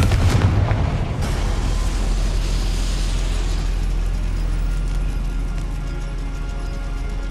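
A fiery Confringo spell explosion in Hogwarts Legacy bursts with a loud boom at the start, then a long rumbling roar that slowly fades.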